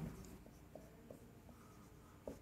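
A pen or marker tapping and squeaking across a board during a physics lesson, several short faint strokes in a quiet room.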